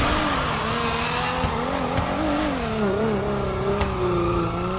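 A car driving fast in a video game, with a steady engine drone and long wavering tire squeals, loud and close, and no voices.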